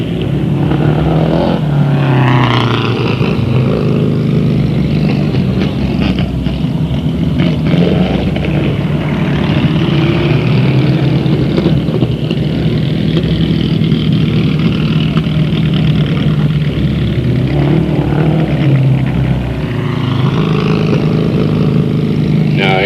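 Stock cars race around Delta Speedway, including a Benson Chevy, their engines roaring loud and close in a continuous snarl with rising and falling revs as cars pass, while a voice talks over the noise.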